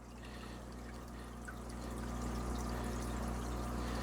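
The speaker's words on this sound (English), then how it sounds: "we've now got it flowing, so we're going to see just how rapidly it pulls stuff out of there" Gravel vacuum siphons water out of an aquarium, giving a soft continuous trickle and gurgle that swells slightly after a couple of seconds and stays quiet and close, with no speech.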